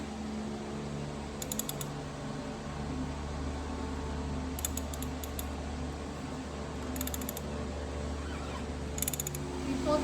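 Ratchet turning a 24mm socket to unscrew the oil filter housing on a Jeep JK, sounding as short bursts of rapid clicking at intervals over a low steady background hum.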